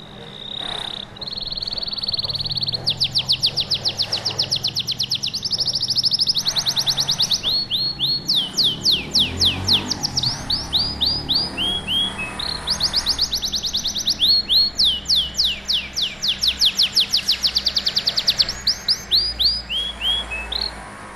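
A contest-winning canary sings steadily for the whole stretch, repeating bright rapid trills and chirping phrases, fairly close, over a faint low background hum.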